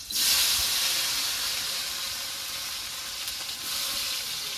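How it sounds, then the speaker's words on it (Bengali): Chopped tomato dropped into hot oil over cumin and dried chili gives a loud, steady, close sizzle that bursts hard at the start and then settles into a constant hiss. "এবার কেটে রাখা টমেটোটা তেলের মধ্যে দিয়ে দেবো"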